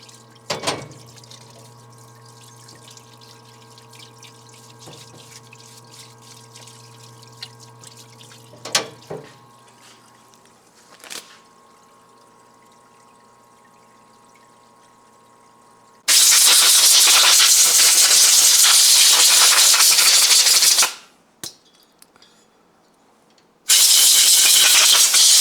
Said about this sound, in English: we're going to go ahead and anneal the head gasket